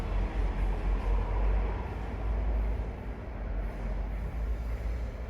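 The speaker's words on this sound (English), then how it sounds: "Got a little train action going on back there." A train rumbles past somewhere behind, a steady low, broad roar that holds throughout with slight swells, fairly loud but distant in character, with no talking over it.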